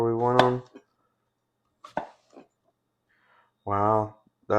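A Dalstrong Quantum 1 cleaver cuts slices, giving a couple of short, sharp chopping strikes between loud, wordless voice sounds and quiet gaps.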